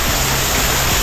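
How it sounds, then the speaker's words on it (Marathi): Water pours down inside a rock cave on an easy trek near Badlapur, a loud continuous roaring rush heard close up and alone. "इथे पण आतून पाणी असं असं पडतंय."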